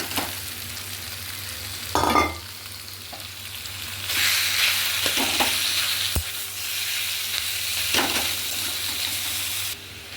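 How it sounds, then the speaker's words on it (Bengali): Chicken pieces drop into a pan of lightly fried onion, bursting into a loud hiss that holds steady, with a few stirring scrapes and clatters and no talking. "পেঁয়াজটা হালকা ভাজা ভাজা করে আমি এবার মাংসগুলো ছেড়ে দিলাম"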